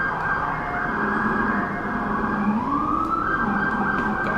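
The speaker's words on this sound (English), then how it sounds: "there's sirens going on right now" Emergency vehicle sirens drift in through an open studio window, a loud, continuous wailing tone that rises and falls steadily over several seconds with no talk.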